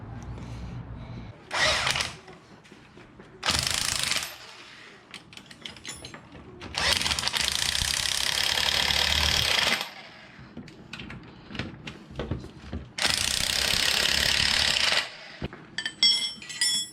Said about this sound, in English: I'm going to use these spring compressors, and then I'm going to release this bolt.